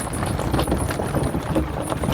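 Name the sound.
stallion's hooves clip-clopping as it walks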